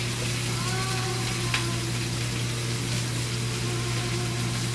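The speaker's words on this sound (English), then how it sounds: "So we're going to go onions first. You should hear that." Onions sauteing in a hot pan give a soft, steady sizzle under a constant low hum, with a faint voice in the background.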